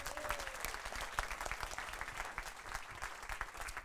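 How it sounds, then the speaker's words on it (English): A conference audience at a bloggers' innovation showcase applauding, with steady, fairly distant clapping and crowd noise throughout, fairly faint overall. "can we have a huge round of applause and those cheers again?"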